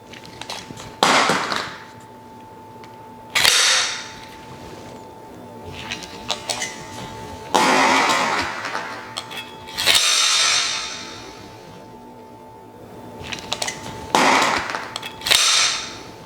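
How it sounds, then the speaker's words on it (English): Pistol combat reload done over and over, sharp metallic clicks and clacks of a magazine dropping out, seating in and a slide snapping forward, several distinct bursts spaced by quiet gaps. "Mag out, mag in, slide forward, and it all happens automatically."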